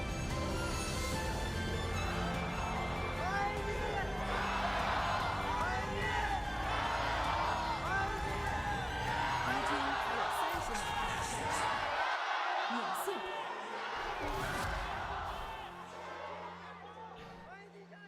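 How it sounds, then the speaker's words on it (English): A loud crowd roars and cheers continuously in a large indoor esports arena at an LPL League of Legends playoff match, with shouting voices rising and falling before the noise thins near the end. "Valiant efforts from both cheering squads there."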